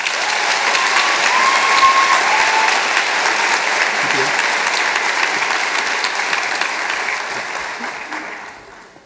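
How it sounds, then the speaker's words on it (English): Sustained applause from a crowd of students and guests at a graduation-style achievement celebration, loud and even before tapering off near the end, with faint voices underneath. "Please give yourself a round of applause."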